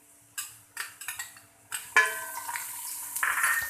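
Ginger garlic paste going into golden-brown frying onions in a pot for chicken pulao: a few light metal taps and clinks of a spoon, then a rising sizzle and crackle, close and moderately quiet.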